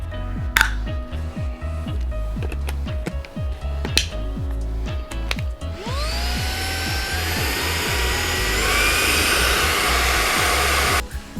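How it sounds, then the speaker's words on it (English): A Hitz Professional HB-5677 20V brushless cordless vacuum cleaner runs with a steady motor whine after clicks and knocks of handling, rising into a louder, brighter whirr with shifting pitch partway through. "Hitz Professional 20-volt cordless vacuum cleaner comes in 3 functions."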